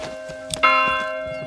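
A church bell rings in the medieval city-building game Manor Lords, with a sustained tonal ring joined by a brighter second strike partway through that rings out and decays.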